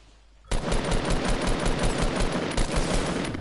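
Sustained machine-gun fire in a PS4 shooter, a loud, rapid burst that begins abruptly and keeps rattling steadily and close for several seconds.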